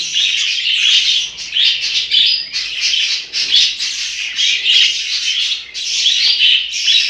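Budgerigars in a home breeding cage chirp and chatter nonstop, a dense, bright twittering from several birds close by, with no talking.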